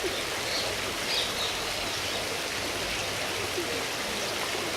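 A constant rushing splash of water falling in a fountain fills the space, steady and fairly close, with no voices.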